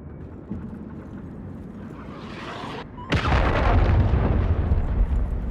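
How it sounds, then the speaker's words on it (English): In Call of Duty: Modern Warfare 3, a low rumble builds until a missile strikes with a sudden heavy boom, followed by a sustained, roaring blast. "Missile approaching target."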